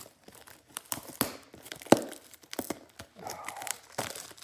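Packaging on a Kakawow Cosmos trading card box is torn open by hand, a close series of sharp rips and crinkling crackles with irregular bursts.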